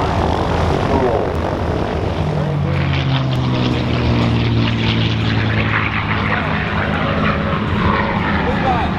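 An aerobatic propeller airplane at a 2016 air show in Tampa, Florida drones loudly overhead, its engine pitch rising and falling as it maneuvers and rolls, with an announcer talking over the steady roar.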